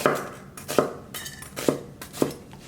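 Kitchen knife slicing through an onion on a cutting board along its natural lines for choripan prep: four crisp, evenly spaced cuts landing near and clear, each a sharp knock against the board.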